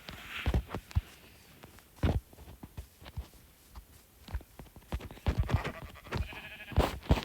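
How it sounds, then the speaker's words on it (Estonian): Minecraft sheep let out a scatter of short, soft bleats against game footsteps and clicks. The calls come in irregular bursts, some doubled, with no speech. "Tapame lamba ära, saame süüa näiteks."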